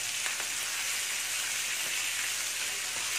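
Sardine fish frying in a pan, a steady close sizzle and crackle of hot oil with faint pops, continuous and alone.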